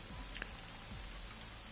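Steady rain pours in Ai: The Somnium Files, a continuous hiss of drops on surfaces with faint low rumbles underneath, constant and even throughout.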